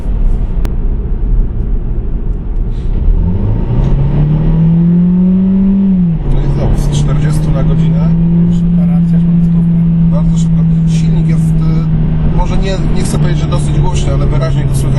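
A Seat Ibiza FR 1.5 TSI with 150 hp pulls away on the road, its engine note climbing steadily under acceleration before settling into a steady drone with constant road and wind noise around it.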